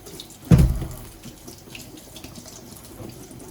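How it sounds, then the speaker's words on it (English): Tap water runs over eggplants being washed in a kitchen sink, a brief louder gush at the start settling into a steady, close splashing stream. "You need to wash them properly. So with water"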